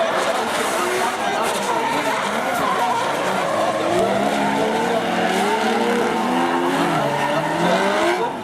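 Turbocharged drift car at a Formula Drift event screeches through a long, continuous tire squeal, engine note rising and wavering underneath, loud and close, with an announcer talking over it throughout.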